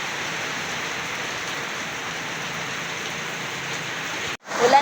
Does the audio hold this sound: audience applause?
no